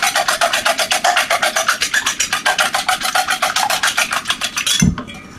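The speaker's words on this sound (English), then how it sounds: "we're going to come in here and give our eggs a little whisk" Eggs being whisked in a bowl for savory matzo pancakes make a fast, steady, rhythmic scraping and rattling of about four strokes per second. The whisking is close and loud and ends with a single knock.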